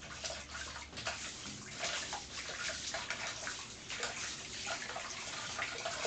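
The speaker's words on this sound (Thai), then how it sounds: "ผมล้างก่อน แล้วขอล้างเขียงด้วย" Running tap water pours steadily while a cutting board is rinsed during preparation of a Thai-style beef offal curry with eggplant, a close, constant splashing hiss with no talking.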